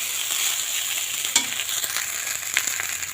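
Leftover rice frying in a pan gives a steady bright sizzle, with a couple of sharp stirring scrapes of the spatula, close and continuous without any talk.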